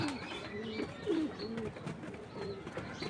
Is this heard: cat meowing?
no